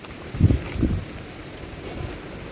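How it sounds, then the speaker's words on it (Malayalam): Strong gusts of wind buffet the microphone on the hilltop of Thumbachi Mala in Idukki, with two heavy rumbling bursts early on and then a steadier, softer rush of air. "ഭയങ്കര കാറ്റാണ്."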